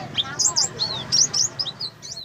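Small white-eye songbird kept as a cagebird, giving a rapid series of high, thin chirps and twittering trills, fairly close and lively, with faint background noise.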